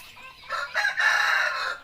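Rooster crowing on a longan farm, one loud, close call that rises and holds in a long drawn-out crow with no talk over it.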